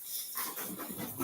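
A dog panting and moving about close by indoors: quick, breathy rhythmic huffs mixed with soft rustling and shuffling, all at a low, steady level.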